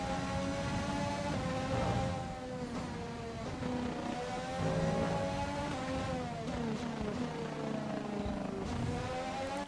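High-revving F1 2020 race car engine in a game, a steady buzzing whine with harmonics sliding up and down as the car brakes and accelerates, loud and continuous.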